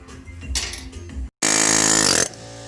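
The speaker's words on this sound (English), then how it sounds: "Air hammer your way to victory." An air hammer works on a Mk4 Jetta 1.8T during a clutch replacement in a garage. It gives two close, loud rattling bursts, a short one and then a longer sustained blast after a brief pause.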